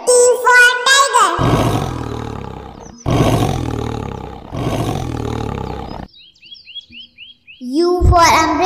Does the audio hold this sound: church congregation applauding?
no